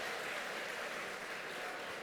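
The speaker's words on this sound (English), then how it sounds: "Folks, let's give them a round of applause" A round of applause from an audience at a festival program event, a dense, steady wash of clapping heard faintly and at a distance throughout.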